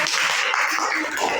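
A classroom of students applauding in a lesson, a dense, steady patter of many hands clapping at once, close and continuous for a short burst.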